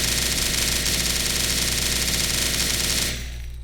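A Suomi KP-31 submachine gun fires in Call To Battle 2, a Winter War setting, as one dense, loud, unbroken burst of rapid automatic shots for about three seconds. It then cuts to a quieter, lingering rumble.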